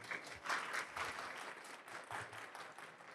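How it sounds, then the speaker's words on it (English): A brief round of applause from a modest audience closing a talk on empowering employees and organisations; soft, uneven clapping at low volume with slight swells. "One more round of applause."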